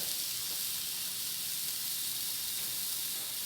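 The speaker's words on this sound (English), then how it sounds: "we're going to go ahead and put this on a hot grill, and we're going to sear it for about a minute on each side" A stuffed pork loin searing on a hot grill, giving a steady, loud hiss of sizzling that runs unbroken from start to finish with no talk over it.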